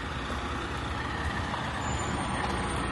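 A truck idles steadily close by as it rolls into a tire and truck shop, a continuous low rumble with no speech over it.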